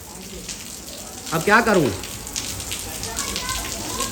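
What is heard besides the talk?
heavy rain falling around a house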